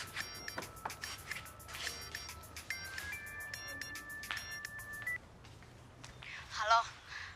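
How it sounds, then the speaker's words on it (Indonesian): A mobile phone rings with a bright, repeating melodic ringtone for about five seconds, then stops as a voice speaks. "Telepon tuh. Ini telepon gue."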